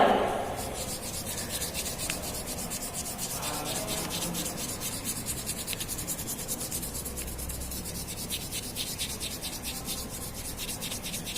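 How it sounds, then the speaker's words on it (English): Steady dry rubbing of crayon or pencil over paper laid on a rough-surfaced leaf to take a leaf print, a continuous close scratchy swishing that runs evenly throughout with no talking. "so this way you have to take rubbing print of the leaf"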